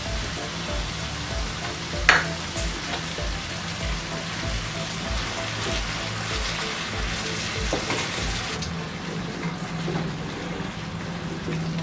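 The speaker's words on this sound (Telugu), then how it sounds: "ఈ పేస్ట్ని వేసి ఒకసారి ఇలాగా కలుపుకున్న తర్వాత దీన్ని 1-2 నిమిషాల పాటు కుక్ చేసుకోవాలి." An onion and tomato paste sizzles in a pan as it is stirred into an egg curry, a steady close frying hiss broken by soft rhythmic knocks of the stirring spoon, with no talking.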